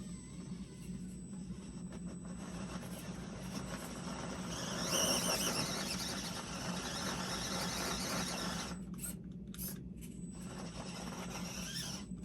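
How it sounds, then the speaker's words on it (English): An Axial SCX24 four-wheel-steer RC crawler truck drives a course, its small motor giving a continuous whirring drone that swells midway, then breaks into short bursts near the end. "next we're gonna do the same run with the axial, or the SCX24"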